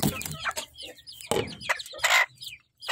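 Shamo chickens in a backyard cluck in short bursts, with several separate calls and a few louder squawks spread across a few seconds, fairly close and with no talking.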